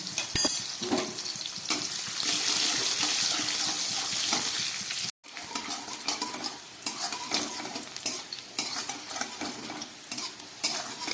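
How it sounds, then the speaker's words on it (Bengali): Bitter gourd slices fried in oil for shukto give a steady close sizzle with scraping stirs and ladle clatter, breaking off briefly at the midpoint before resuming with irregular clinks. "উচ্ছেগুলো ভাজা হয়ে গেছে, এবার আমি এগুলোকে তুলে ফেলছি।"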